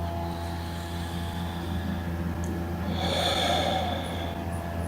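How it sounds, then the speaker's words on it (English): A slow, deep breath is drawn in and let out during a relaxation meditation. The airy rush swells midway over a steady low hum, with no talking. "So take a real deep breath."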